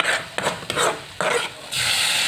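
Tomato frying in oil in a pan gives a close sizzle in short bursts, broken by stirring and scraping strokes, with a louder continuous hiss at the end.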